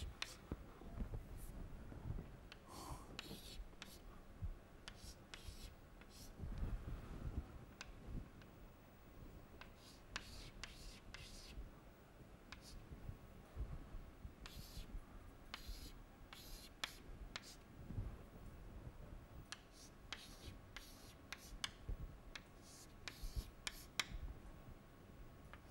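Pen scratching and tapping across paper while a diagram of orbital order is drawn, with steady writing strokes and short ticks, close and quiet, with faint breathy sounds now and then.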